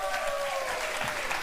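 A studio talk-show audience claps steadily for a snake-handling guest, a dense, even wash of applause filling the whole moment without a break.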